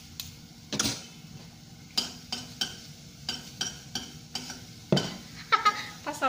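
Stirring a sardine omelette mixture (tortang sardinas) in a frying pan: a utensil scrapes and taps against the pan in irregular strokes over a soft sizzle, close and moderately loud.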